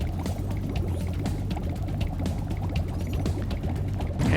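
Water rushes steadily into an area in Spyro 2: Ripto's Rage from the Spyro Reignited Trilogy game. It is a continuous churning pour with a low mechanical hum beneath, fairly loud, and nobody speaks.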